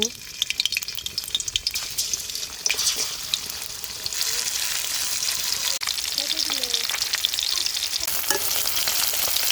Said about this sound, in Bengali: তেল গরম হয়ে গেছে, মাছ দিয়ে দিব।